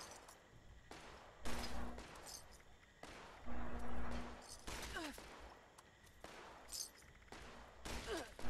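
Gunfire in the video game Counter-Strike, several separate bursts of shots ringing out at moderate distance, mixed with game ambience.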